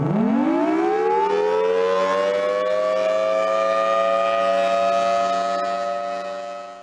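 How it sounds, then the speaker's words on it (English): Thunderbolt civil defense siren with a blower and rotating chopper shutter, winding up from a low growl to a loud sustained wail that holds steady and begins to fade near the end. "we can actually make the siren go around like this also."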